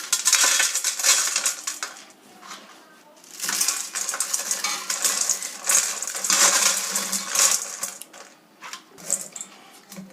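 Fried omapodi is tipped and stirred into a vessel of Kerala mixture, giving a dense, continuous metallic clatter and rustle of crisp pieces, loud and close, with brief lulls between bursts and no talk.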